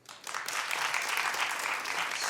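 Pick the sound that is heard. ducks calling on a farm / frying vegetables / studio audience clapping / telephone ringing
studio audience clapping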